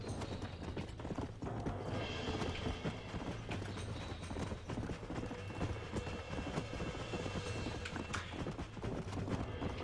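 Rapid, continuous clip-clop of horse hooves galloping in the video game Red Dead Redemption, with faint clicking mechanical sounds layered over a steady low rumble.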